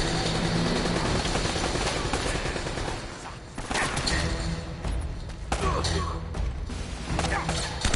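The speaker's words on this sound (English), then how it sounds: "I guess this has a pretty cool helicopter fight" A dense, chaotic mix of rapid gunfire and blasts over a thudding helicopter drone during a video game helicopter fight in Uncharted, loud and continuous with no clear pauses.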